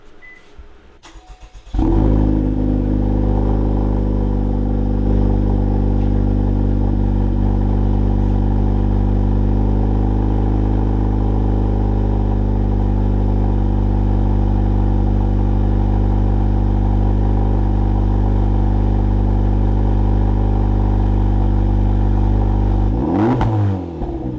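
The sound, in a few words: car aftermarket exhaust revving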